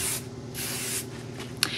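Hairspray hisses from an aerosol can in long bursts over teased, set curls, close and fairly loud, with a short sharp click near the end.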